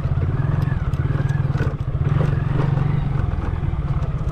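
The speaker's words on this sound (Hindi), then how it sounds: "करते हैं बाइक को स्टार्ट, निकलते हैं यहाँ से फिर, चल चल चल चल पत्थरों के ऊपर से" A motorcycle rides over stones on an unpaved dirt track, the engine thudding in a steady pulsing rhythm close by, with rattling clatter from the rough surface.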